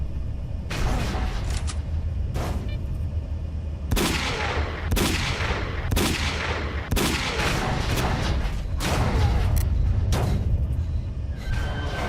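Heavy gunfire in S.T.A.L.K.E.R.: Call of Pripyat, loud close shots in irregular bursts and single cracks, each with a booming decay, continuing throughout over a constant rumbling background.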